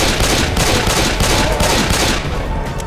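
Dense, loud gunfire from Left 4 Dead 2 rattles almost without pause, overlapping bursts and shots piling into a continuous chaotic barrage with no voices heard.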